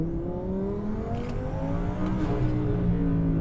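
A 1000-horsepower twin-turbo Audi R8 at full throttle in second gear in manual mode, engine droning steadily and climbing in pitch as it builds boost, loud and continuous from inside the car.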